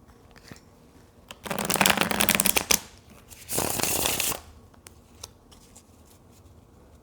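Tarot cards shuffled by hand in two bursts of riffling, crisp papery flutters close by, separated by a short pause in an otherwise quiet room.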